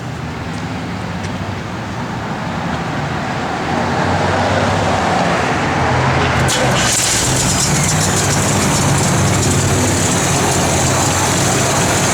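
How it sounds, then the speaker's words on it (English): A big block V8 in a 1972 Chevrolet El Camino idles steadily with a deep, continuous rumble that swells slightly partway through and holds, with no talking. "Good running big block, guys."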